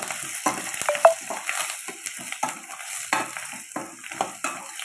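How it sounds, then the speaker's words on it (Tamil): Onion, curry leaves, green chillies and peeled garlic sauté in a pan, with a steady hiss of frying under repeated scrapes and knocks of a spoon being stirred through, close and moderately loud, no talking. "நல்லா வதக்குங்க."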